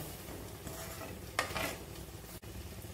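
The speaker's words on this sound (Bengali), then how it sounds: "কড়ার মধ্যে আমি দুধ দিয়ে দিচ্ছি" Milk added to a wok of caramelised sugar, giving a steady hiss and sizzle with stirring, a brief louder splash-like burst midway and a short metallic clatter near the end; no talking.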